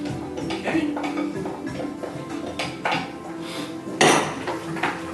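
Cooked risotto stirred in a pan, with a spoon scraping and clinking against the metal in an uneven rhythm, one sharper knock, close by and mixed with room noise.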